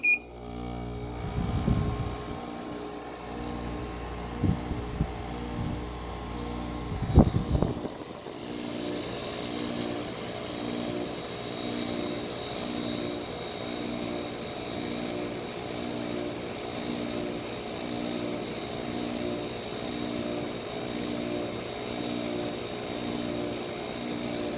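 A GE 5050 BTU window air conditioner running steadily after being plugged back in, its compressor and fan making an even, pulsing hum with a faint high whine; a few louder handling bumps come at the start.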